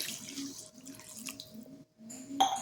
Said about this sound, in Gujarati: હવે આપણે 1 ગ્લાસ પાણી નાખીશું